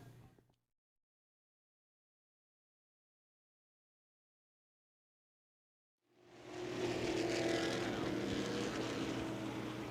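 CRA Late Model Sportsman race cars lap an oval track at LOR. After several seconds of near silence, a loud, sustained roar of engines sweeps in and holds steady.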